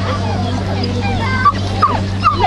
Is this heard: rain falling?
no